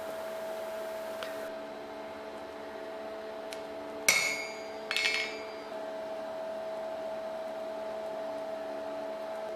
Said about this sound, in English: The maker's mark is then stamped onto the striker.